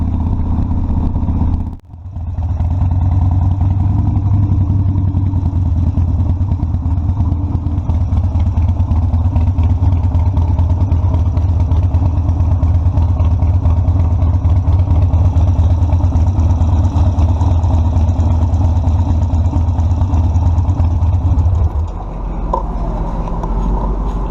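Harley-Davidson Sportster Custom 1200 motorcycle riding along with a steady, loud low engine rumble throughout, a brief dropout near the start and the drone easing off near the end.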